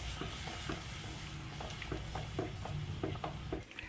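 A spoon stirs chicken curry masala paste in a pan in quick, regular strokes, each scrape ticking against the pan over a low steady sizzle, close and alone.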